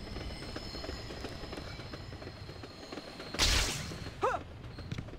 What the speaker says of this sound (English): The train's about to stop.